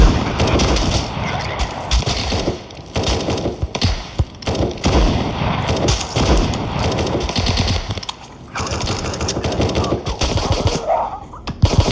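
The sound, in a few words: gunfire from enemies in a zombie video game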